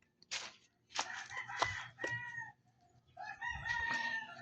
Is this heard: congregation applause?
no